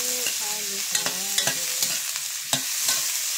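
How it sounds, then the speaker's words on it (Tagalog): Chayote and cabbage stirred in a pan, with a run of scraping, clattering utensil strokes against the pan over a light, steady sizzle, close and clear with no talking. "Ito ay sayote at saka cabbage. Ayan, halo-haloin lang natin."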